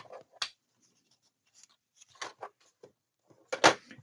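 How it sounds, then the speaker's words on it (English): Folded cardstock being burnished with a tool during a paper craft project: a few short rubbing strokes, close and fairly quiet, with gaps of silence between them and one stronger scrape near the end. "Fold those, burnish."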